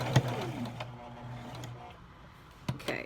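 A Brother XL 3750 sewing machine stitches fabric with a steady mid-pitched motor whir for nearly two seconds, then stops, leaving quiet broken by a couple of sharp clicks.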